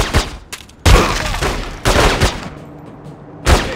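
Gunfire in The Godfather 2 video game: loud, close bursts of rapid shots in several clusters with short pauses between, sharp cracks trailing into brief echoes.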